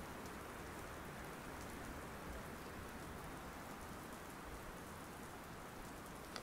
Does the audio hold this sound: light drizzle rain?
yes